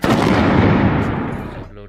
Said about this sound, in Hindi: हमने फोड़ा यहाँ पर एक पटाखा जिसने की बहुत आवाज़ करी